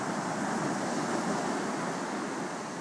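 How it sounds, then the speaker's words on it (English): Ocean waves washing onto a beach in a steady, unbroken roar, loud and close, with no voices and no distinct breaks between swells. "want to hear the sounds of the ocean while you fall asleep"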